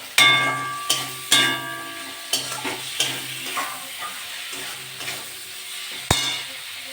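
Chopped tomatoes go into frying prawn masala for a spicy tiger prawn curry and get stirred through, giving a steady sizzle with sharp scraping knocks of the spoon against the pan and a louder clatter near the end.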